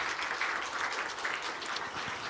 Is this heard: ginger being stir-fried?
no